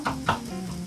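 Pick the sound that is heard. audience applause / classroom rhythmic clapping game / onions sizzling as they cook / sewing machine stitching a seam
onions sizzling as they cook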